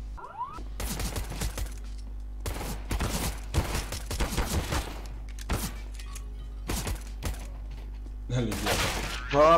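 Rapid bursts of gunfire crackle repeatedly across the clip, with scattered single shots and a brief electronic whoosh near the end, from the game CS:GO.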